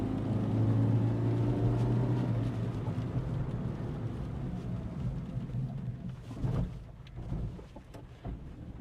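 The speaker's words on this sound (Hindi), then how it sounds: "और इंजन नॉइस पे गौर कीजिएगा, नेक्स्ट टू 0 है, नेक्स्ट टू नन है।" A Foreland Safari 1.5 eleven-seater MPV drives along with a low, steady engine drone and road rumble. The rumble is loudest at first and eases off, with a few brief bumps and no voices.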